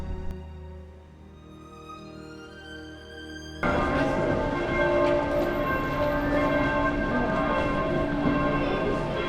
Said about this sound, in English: the bells started ringing